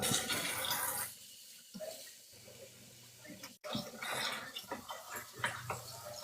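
Running water rinsing a wig, a rushing stream of water that cuts off and restarts, with splashes and drips in between.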